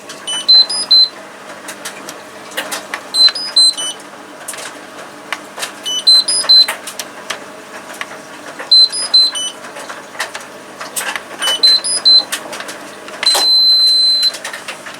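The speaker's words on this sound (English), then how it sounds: "You have changed the beep slightly on this one." A device under test, crusted with built-up liquid gunk, gives repeated short electronic beep patterns at regular intervals, ending in a longer steady tone, over faint background clatter.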